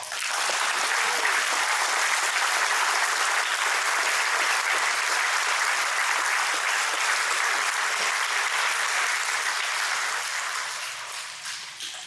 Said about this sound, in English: please give yourselves and give God a big round of applause